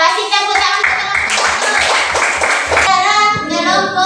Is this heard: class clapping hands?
yes